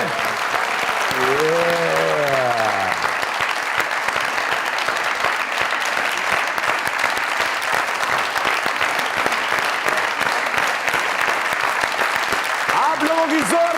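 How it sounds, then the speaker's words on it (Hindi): An audience on a comedy talk show stage bursts into loud, sustained applause as a guest artist is welcomed, clapping densely for the whole stretch while a voice calls out briefly at the start and end. "आप लोगों की जोरदार तालियों में जनाबे तौसीक हैदर साहब तशरीफ लाइए"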